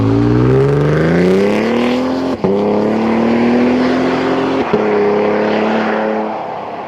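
A 2024 Toyota Tundra fitted with a slip-on exhaust accelerates hard, its engine note climbing loudly through two quick gear shifts, each marked by a brief dip before the roar builds again, close and steady.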